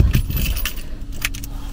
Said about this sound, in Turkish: Normal anahtarımız nerede acaba?